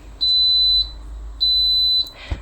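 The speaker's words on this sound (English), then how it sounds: "There it was, 3 beeps" A WMF Lono multi-cooker sounds its cooking-finished signal: loud, steady, high-pitched electronic beeps, each lasting over half a second with a brief pause between, then a soft click.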